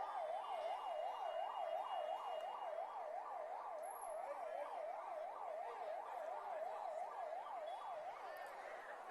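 A 108 ambulance siren wails in a steady, fast up-and-down rhythm as it passes, loud and continuous, fading slightly toward the end, with no voices over it.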